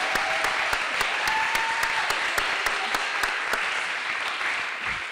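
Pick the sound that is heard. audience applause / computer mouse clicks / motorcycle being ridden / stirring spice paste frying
audience applause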